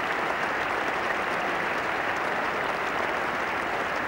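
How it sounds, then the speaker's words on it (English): Steady applause from spectators and teammates at a 1985 England v Australia cricket Test match, greeting a half century by the Australian captain; a broad, even patter of clapping throughout, somewhat distant and unbroken. "the applause for successful players by teammates, and especially for the captain"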